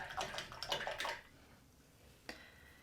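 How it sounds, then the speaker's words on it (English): A paintbrush is swished and rinsed in a water cup during acrylic painting, giving about a second of close, splashy sloshing, then quiet and one brief later splash. "let's wash that brush out"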